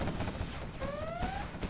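Quad cannon gunfire in C&C Zero Hour, a dense rattling burst of rapid shots running continuously over the battle noise, with a brief tonal sweep in the middle.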